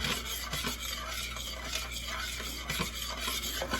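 A spoon stirs sweetener into garlic sauce, a soft continuous scraping and swishing, close but quiet and steady throughout with no talk.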